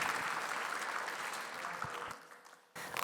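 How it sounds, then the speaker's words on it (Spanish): Applause from a church congregation fills the space, steady and dense, then thins out and drops off sharply near the end before a brief burst resumes. "Dale ese fuerte aplauso al Señor."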